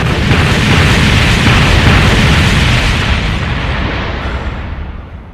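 A huge, roaring explosion from an excessively bright, loud weapon blowing up opponents in an anime battle, a dense sustained rumble that slowly fades, no voices.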